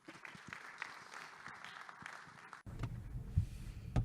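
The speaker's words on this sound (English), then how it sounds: "Ramah sous vos applaudissements" Audience at an African financial forum's opening panel applauding a panelist with a soft, steady patter of claps, which gives way to low rumbling room noise with a few louder claps.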